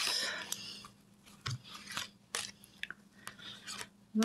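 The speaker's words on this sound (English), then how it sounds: "I will pull a few cards for that." Playing cards slid and pulled from a deck, giving a series of soft, brief papery rasps and snaps scattered across a quiet room background, fairly close and with no talking.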